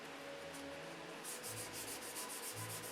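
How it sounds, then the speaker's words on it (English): Hand sanding of a lacquer finish: faint rhythmic rubbing strokes, a couple of slower passes followed by quicker back-and-forth scrubbing, close and quiet with no voices. "So you keep sanding and painting"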